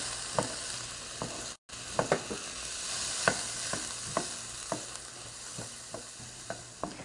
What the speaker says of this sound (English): And I'm going to saute that for about 4 minutes, stirring frequently